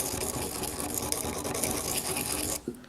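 A wood carving tool being sharpened in a circular, back-and-forth rolling motion, giving a close, continuous gritty rasping that runs steadily for a few seconds and then stops.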